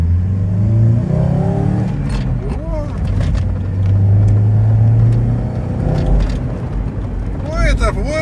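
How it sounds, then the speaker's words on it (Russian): An old Chrysler Voyager with a 2.4 engine and a coughing fault pulls away, its mid-pitched engine swelling and revving in uneven bursts beneath someone speaking. "Машина стала теперь ехать"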